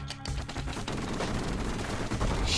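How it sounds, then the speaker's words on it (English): Rapid mortar fire from the video game Bastion crackles in a dense, continuous stream of overlapping shots, loud and close throughout the short burst. "I love the mortars already"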